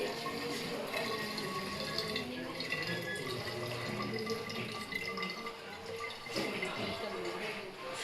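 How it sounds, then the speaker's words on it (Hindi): Water poured into a plastic bottle for a school acid-base neutralization experiment, giving a steady splashing, gurgling fill that runs throughout at moderate level. "इस तरीके से इस बोतल में मैंने पानी ले लिया"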